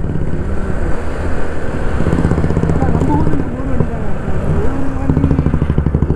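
TVS XL moped engine running steadily while riding on a road, a continuous close putter with voices talking over it throughout.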